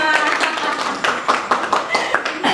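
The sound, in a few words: class clapping hands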